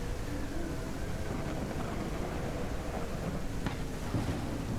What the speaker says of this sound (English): So I like the thunder and lightning and stuff.